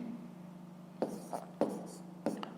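Pen or chalk writing out a math answer: a few short scratchy strokes in quick bursts over a steady low hum, close and fairly quiet.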